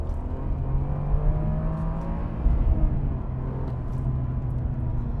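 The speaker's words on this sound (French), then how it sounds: "on va essayer d'accélérer un peu pour voir ce que ça donne" Ferrari 550/575M Maranello with its V12 accelerating from inside the cabin, a steady muffled engine drone with a low rising tone under road and wind noise, fairly loud and continuous.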